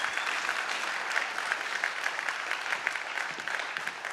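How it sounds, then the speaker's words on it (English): An audience at a leadership talk breaks into sustained applause, a thick, even wash of many hands clapping at moderate volume without any voices over it. "let's give these guys a big round of applause"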